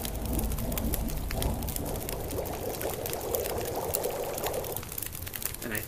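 Water being boiled in The Long Dark video game, a continuous bubbling, pouring rush of liquid that stays fairly loud and even throughout, with no voices.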